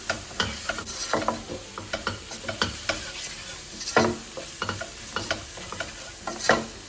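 Chicken pieces with turmeric powder and salt are stirred in a pan, giving repeated scraping, clattering strokes in an uneven rhythm over a faint sizzle, close and fairly loud.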